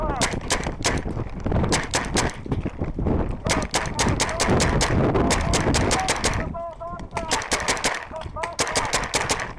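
An entry-level paintball marker fires in rapid strings of sharp pops, loud and close, broken by short pauses and mixed with wind noise and outdoor bustle, with voices in the background.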